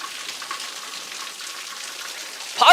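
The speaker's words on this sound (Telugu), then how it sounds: "ఉరుములు మెరుపులతో కూడిన భారీ వర్షం పడుతోంది." Heavy rain pouring in Hyderabad's Madhapur area during a thunderstorm, a steady broadband hiss of downpour with a louder burst at the end; no thunder clap stands out.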